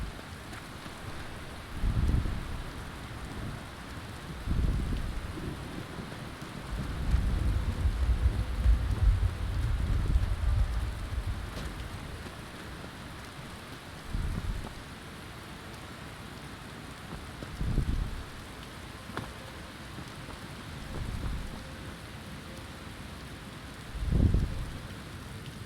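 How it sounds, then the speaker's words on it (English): Steady rain falls throughout on a rainy day, with several low rumbles of thunder rolling in at intervals, one longer heavier swell in the middle. "Today's just a rainy day."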